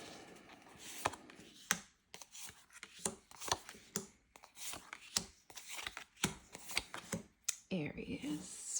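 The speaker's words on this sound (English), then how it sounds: "We'll go ahead and give it a little bit of a shuffle" Celestial tarot card deck being shuffled by hand, a string of crisp riffling snaps and flutters in irregular bursts, close and fairly quiet, with no talk over it.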